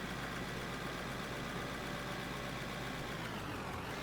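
A truck engine idles steadily in the mining game Out of Ore, a dense, continuous mechanical rumble with no breaks and no voices.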